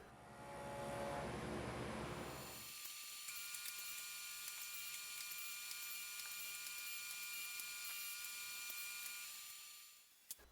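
A sanding disc mounted on an Edge Tech table saw smooths the edges of built-in bookcase shelves, a steady high whirring hum that runs nearly unchanged and close, with a louder, lower-heavy start that thins out after a couple of seconds.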